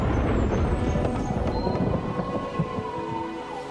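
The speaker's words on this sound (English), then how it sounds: "that wasn't thunder I heard. It was the sound of bowling balls." Bowling balls roll down a lane on league night, making a loud, steady, thunder-like rumble with rattling clatter that stays strong throughout and fades slightly toward the end.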